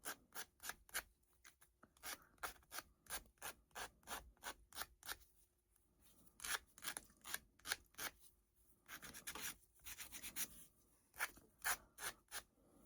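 Hand sanding or distressing of a painted wooden primitive angel: a quick run of rhythmic, raspy rubbing strokes, close and fairly quiet, arriving in bursts separated by short pauses, with no voices.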